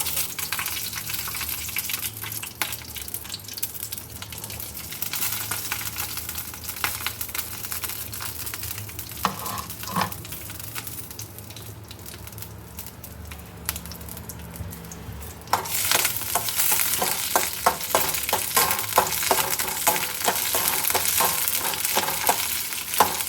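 Green chilies sizzle and crackle steadily in a little hot oil while being fried for a pudina chutney, with occasional stirring scrapes; the frying grows louder and busier about two-thirds through, with no talk.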